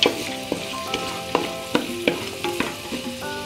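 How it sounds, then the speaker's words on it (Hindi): Carrots, a bay leaf and green chilies fry in a pan, giving a constant crackling sizzle broken by repeated clinks and scrapes of stirring, with no talking. "मातशें फ्राय जावपाक दवरपाचो"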